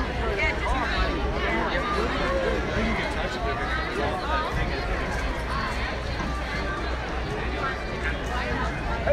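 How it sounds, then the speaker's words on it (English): A packed crowd at the Guy Weadick Days rodeo in High River roars steadily as riders come around, a dense, continuous wall of cheering and babble that holds loud for the whole stretch. "You can hear the noise they're making when they're coming around."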